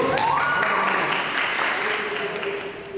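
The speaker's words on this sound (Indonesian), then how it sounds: "Kasih tepuk tangan dulu" Students at an anti-corruption education session for santri applaud, a continuous wash of clapping that fades slightly toward the end, with tonal sounds and some voice-like noise running beneath it.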